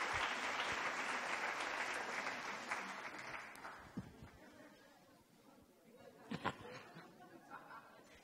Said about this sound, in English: A round of applause for Amy